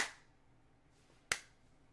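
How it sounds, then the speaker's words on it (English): A single sharp hand clap rings out in a quiet lecture room, brief and bright with a short decay, following a fading sound at the very start. "as you'll see when I clap my hands"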